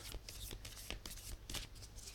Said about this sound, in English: Talk about a long shuffle.